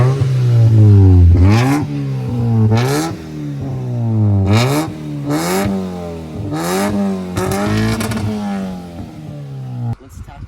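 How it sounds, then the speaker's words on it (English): A 1991 Honda Civic engine with new spark plugs starts and revs repeatedly. The loud, close revs rise and fall in a steady rhythm of about six pulls before it cuts off abruptly near the end. "the car starts"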